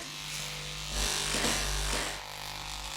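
Electric shaver buzzing steadily and close while a person's head is shaved, the motor hum swelling slightly in the middle as the clippers press against the hair, with no talking.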